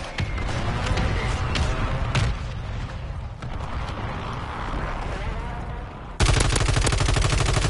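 Rapid bursts of gunfire crackle in quick succession in Call of Duty: Warzone, then a louder, sustained stream of automatic fire kicks in near the end.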